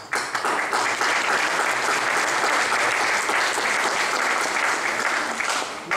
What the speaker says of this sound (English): They deserve a very big round of applause.